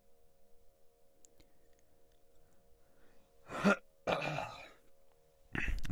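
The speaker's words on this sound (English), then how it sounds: "I just literally just coughed up a lung." A person coughs hard and close, two harsh bursts followed by a third starting at the end, after several seconds of near silence.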